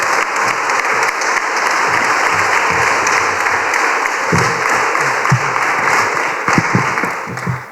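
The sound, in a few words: audience applause for the workers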